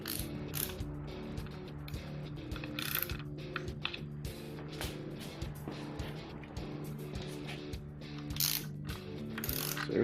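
Close ratchet clicks while bolts are tightened on an Opel CIH engine short block, in repeated rapid pawl bursts with short pauses, over a steady low background hum.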